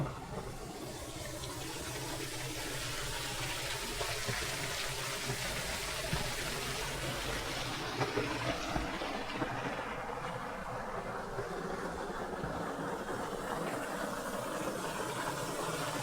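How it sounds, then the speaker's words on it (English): A large waterfall with a roughly 120-foot drop at an eco hotel property, heard as a constant broadband rushing roar that stays steady and fairly distant throughout, with no talking. "I think this is one of the bigger waterfalls on the property."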